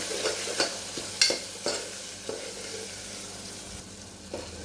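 Coriander-cumin powder and asafoetida sauté with onion-tomato masala in a pan, a soft sizzle under a few quick spatula scrapes and taps near the start, close and quiet with no talking.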